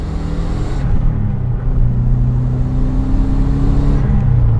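A modified Subaru Forester STI with a stage 3 clutch revs up from idle and holds a loud, rising engine drone that climbs in steps, close and steady throughout.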